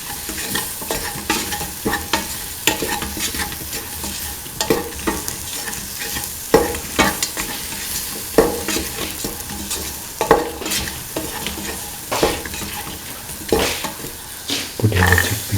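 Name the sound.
stirring okra chickpea stew mixture with spices in pan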